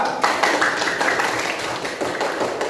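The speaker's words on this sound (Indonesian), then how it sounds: "Coba tepuk tangan untuk kelompok 2." Pupils in a classroom clap for a group, a short burst of fairly close, uneven hand claps that stays at a steady level throughout.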